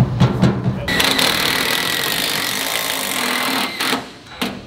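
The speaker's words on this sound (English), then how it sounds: "We can drill this one in the corner." A power drill whirs steadily for a few seconds, driving a screw into a homemade farm boat, with short clunks of handling before and after.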